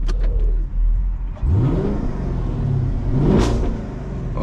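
A car engine revs from inside a vehicle on a rainy Atlanta street, the pitch rising in two sweeping surges over a steady low rumble, fairly close and with no talking.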